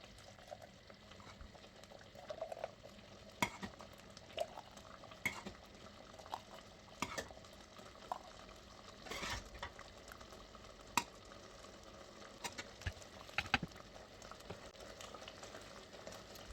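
Strawberry jam cooking in a pot, heard as soft, steady bubbling with scattered clinks and stirring scrapes, faint and close, with no voices.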